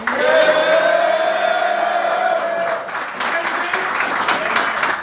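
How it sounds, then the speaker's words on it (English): A crowd at a high school football breakfast event applauds and cheers loudly and steadily, with whoops and shouts rising over continuous clapping throughout. "somebody make some noise for Marshall."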